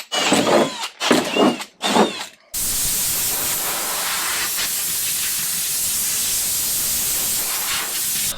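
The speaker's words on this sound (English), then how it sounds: "it's time to start drilling some holes." A drill bores holes through a Jeep XJ hood in a few short close bursts, followed by a long steady hissing, whooshing noise, loud and without talk.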